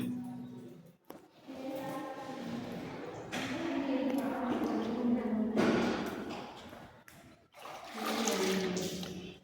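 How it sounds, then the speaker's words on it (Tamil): Water gushes from a hand shower in a newly finished bathroom, a loud, continuous hissing spray that stops briefly several times before starting again. "Hand shower."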